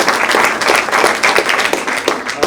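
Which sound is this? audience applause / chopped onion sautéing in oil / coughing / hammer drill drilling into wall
audience applause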